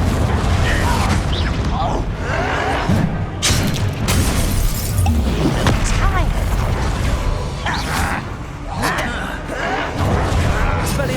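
In the video game Hogwarts Legacy, repeated Confringo blasting spell explosions boom and shatter amid constant loud combat noise, with a voice speaking between the bursts.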